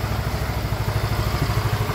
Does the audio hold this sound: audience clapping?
no